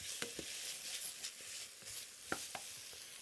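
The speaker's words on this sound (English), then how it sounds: "Stir that in and just get all of those flavors coming together." Soft stirring in a pot of chipotle black bean soup as Mexican oregano goes in, a quiet, gentle background hiss broken by several light scrapes and taps, with no talk.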